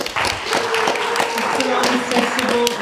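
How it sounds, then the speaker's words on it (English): An audience at an evening writers festival event claps in a brief burst of applause, scattered sharp hand claps running beneath a speaker's voice. "I want to say a big round of applause to Mark Mordue."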